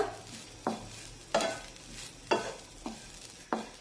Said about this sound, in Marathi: हे खोबरं आपण सतत परतत राहूया